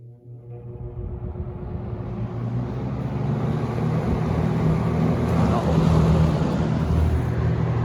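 Electric fan motor running on its high setting, a steady broadband whoosh with a low hum that swells slightly louder after a few seconds, continuous and close.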